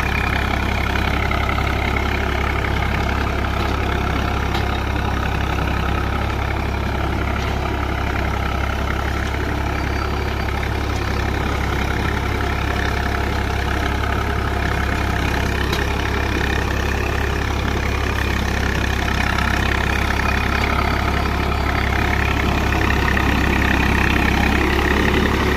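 A Swaraj 855 tractor pulls a super seeder in fourth low gear at about 1300–1400 rpm, its engine droning steadily and loudly from start to finish with a low heavy rumble and no speech.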